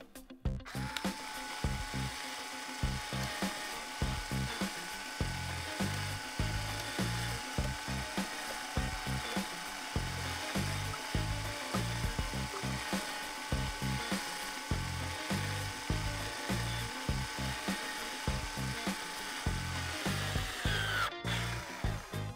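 Manual silicone caulking gun pumped steadily to empty a full tube, producing rapid, regular ratcheting clicks and creaks in a close, unbroken rhythm for about twenty seconds.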